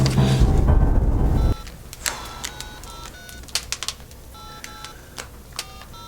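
A telephone keypad dials a number in a run of short, sharp tones following a loud burst of noise, with faint clicks between the presses.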